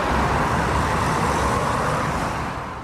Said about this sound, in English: Drivers are well used to jams on this stretch of road, with traffic often backing up here on this flyover in Swinton